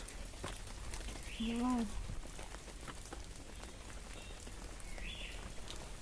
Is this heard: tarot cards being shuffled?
no